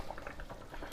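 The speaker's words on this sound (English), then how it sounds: "It's boiling." Beef short rib braising liquid bubbling in a pot, a steady close patter of popping bubbles with one louder burst near the end.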